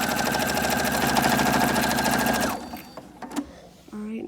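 A sewing machine runs fast and steady, stitching the seam of a fabric Bible cover, then stops abruptly, leaving a few soft clicks and handling noises as the work is turned.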